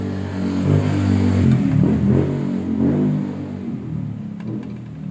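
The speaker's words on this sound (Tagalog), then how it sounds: "excuse me, maingay, may dumaan ng motor." A motorcycle rumbles and revs close by, its low engine drone swelling then gradually fading as it passes.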